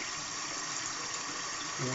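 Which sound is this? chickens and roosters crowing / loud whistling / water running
water running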